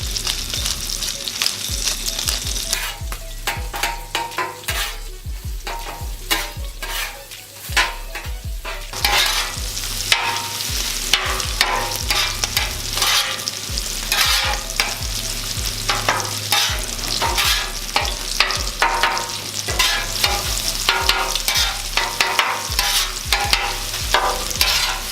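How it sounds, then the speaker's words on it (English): Scrambled eggs with added milk frying on a 36-inch Blackstone griddle, a steady loud sizzle broken by repeated scraping and stirring strokes of a spatula, close and without talk. "Now when I scrambled these eggs, I added a little bit of milk, make them nice and creamy."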